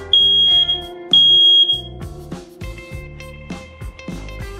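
A Google Nest Protect smoke alarm during its test sounds two loud piercing high beeps, each about a second long, followed by electronic alert tones and spoken announcements from the device itself.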